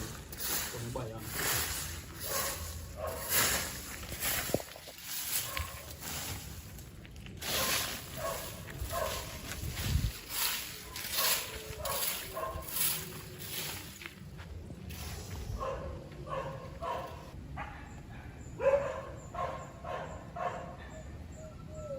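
A dog barks repeatedly in short bursts, with occasional yips and whimpers, fairly near, while people talk over and between the barks throughout.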